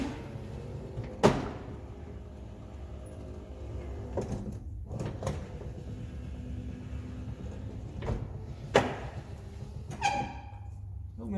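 Door locks and the rear power window on a 1979 Lincoln Continental Town Car with the front door panel removed actuate in a quiet garage, giving several sharp clunks and whirring clicks spaced a few seconds apart over faint background noise.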